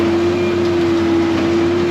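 A large farm tractor working an alfalfa field hums with a loud, steady engine drone and a constant tonal whine, unbroken throughout, heard from inside or right beside the machine.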